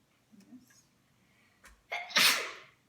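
A single sneeze in a classroom during a word game, loud and sharp after a quiet breathy build-up, with faint voices before it.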